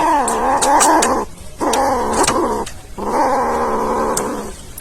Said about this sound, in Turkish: Tabii ki hırlayacaksın.